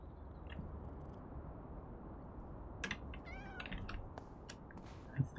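A cat meows in the PowerWash Simulator 2 video game, a few short drawn-out meows midway through, moderately loud over a faint background hum, with light clicks like keyboard or mouse taps around them.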